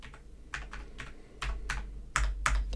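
Keys tapped on a computer keyboard in a short irregular burst of about a dozen crisp clicks, close and fairly quiet, with a few louder strokes near the end and no talking.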